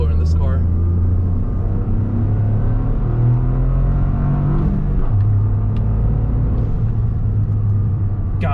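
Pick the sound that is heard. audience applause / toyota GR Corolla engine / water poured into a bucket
toyota GR Corolla engine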